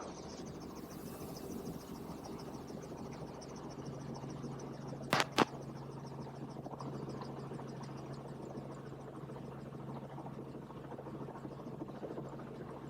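A small airplane takes off over Key West, heard from inside as a steady, low engine drone that holds throughout, with a couple of sharp clicks near the middle.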